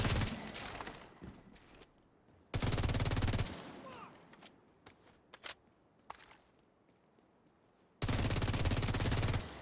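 Loud automatic gunfire in a Strikers video game shooter, with long dense bursts at the start, the middle and the end, and scattered single shots and quieter movement sounds in between.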